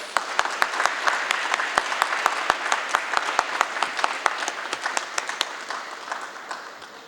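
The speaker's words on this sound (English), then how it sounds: "Let's give a round of applause." An audience at a helicopter company's one-year anniversary celebration in Guyana applauds, a lively crowd of clapping with a few sharp, distinct claps popping out near the front, then gradually tapering off, with no speech.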